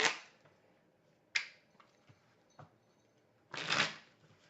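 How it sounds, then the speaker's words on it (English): Tarot cards are shuffled by hand during a six-card spread reading: several quick, crisp riffling bursts close to the microphone, separated by short pauses, with a longer burst near the end. "Just going to shuffle again."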